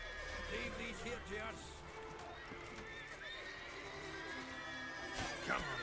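Roach, Geralt's horse in The Witcher 3, lets out a clear whinnying neigh with clip-clopping hooves, close and fairly loud, while someone talks over it.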